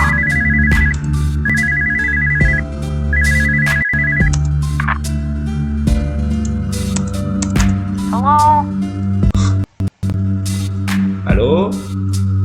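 An electronic telephone ringtone repeats in bursts in the horror game Spooky's House of Jumpscares, loud and close over a droning musical background, with brief other game noises and some speech.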